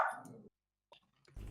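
A dog gives a loud, close bark at the start, then goes quiet before another burst of noise near the end.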